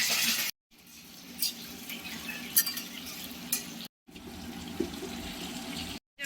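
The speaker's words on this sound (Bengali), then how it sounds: "এবার তেল গরম হয়ে গেছে দিয়ে দেওয়া হচ্ছে আলুগুলো" Small potatoes fry in hot oil in a home kitchen: a soft, low sizzle with faint stirring scrapes, interrupted by brief silent cuts.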